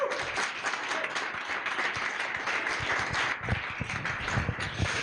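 An audience at a conference's closing remarks claps in a steady, moderately quiet patter of many hands, with a few sharper nearby claps rising toward the end.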